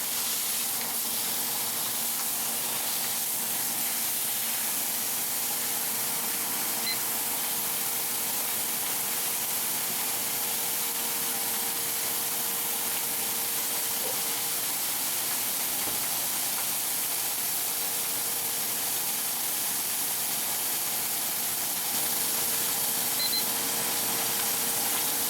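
A steady, even sizzle of steak searing in a hot pan after being flipped, a continuous close hiss and crackle with no break and no talking.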